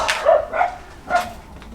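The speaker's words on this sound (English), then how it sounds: "It's my neighbour's crazy dog." A neighbour's dog barks three times nearby, sharp, loud yaps spaced unevenly over a quiet background, with no talking.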